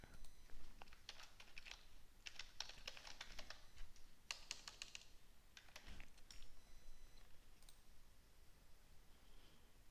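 Keys clattering on a computer keyboard while a file name is typed, in quick irregular bursts of close, crisp clicks with short pauses, quiet overall.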